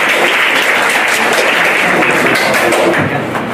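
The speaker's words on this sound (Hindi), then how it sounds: "एक बार फिर से तालियां बजाइए।" A crowd at a student performance event claps loudly and steadily as dense, continuous applause that eases slightly at the end.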